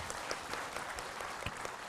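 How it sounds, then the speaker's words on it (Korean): Audience applause at a public broadcast event in Jeonju: a short, steady patter of clapping from a crowd, fairly faint and continuous throughout. "박수 한번 주세요"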